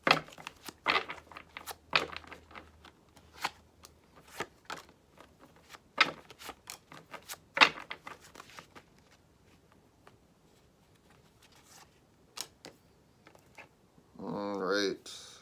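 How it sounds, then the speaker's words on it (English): Tarot cards are shuffled in sharp, irregular flicks and snaps, scattered across the stretch, with a voice speaking briefly at the very end. "We will shuffle your cards now."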